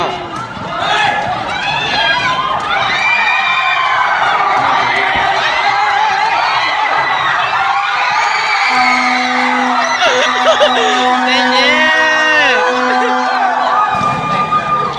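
A loud, close crowd of supporters whoops, shouts and cheers continuously at a university kato (sepak takraw) match between faculties, with overlapping voices and sustained yells rising and falling throughout.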